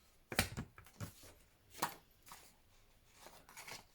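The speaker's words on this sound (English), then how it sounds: "Scissors." Scissors snip a few times while a wreath decoration is trimmed, quiet, close and irregular, with pauses between cuts.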